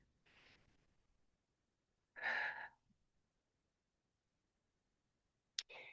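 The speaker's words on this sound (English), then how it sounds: "give yourself a moment just to take a couple of deep breaths" Breathing exercise: a soft inhale, then a louder, breathy exhale through the mouth, and the start of another breath, all close and quiet in a silent room with no talking.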